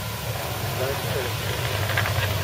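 Many motorcycles idle together at a breakfast ride stop at Seaba Station, a steady low rumbling drone throughout with a faint voice murmuring underneath.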